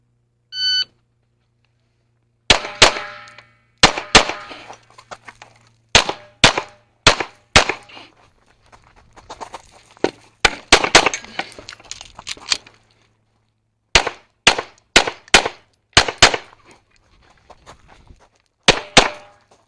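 A run of fast pistol shots on a practical shooting stage, with sharp cracks and steel targets ringing in quick clusters, opening with a start beep and broken by short pauses.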